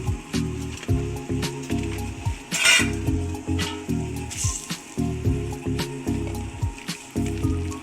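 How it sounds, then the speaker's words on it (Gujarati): Buttermilk with onion heating toward a boil in a pot on the stove. Soft repeated bubbling and sizzling comes with clinks and stirring scrapes, and there is one sharper burst near the middle. "છાશ હવે ઉકળવા આવી છે"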